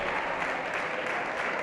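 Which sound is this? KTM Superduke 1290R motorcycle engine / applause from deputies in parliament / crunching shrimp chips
applause from deputies in parliament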